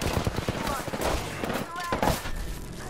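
Rapid bursts of Apex Legends gunfire crackle throughout, overlapping with excited voices talking over the shots.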